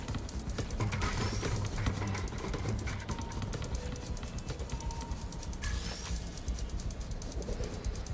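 Pigeon cooing on a New York street in Marvel's Spider-Man, soft repeated coos over a steady bed of city ambience and clopping, no talk.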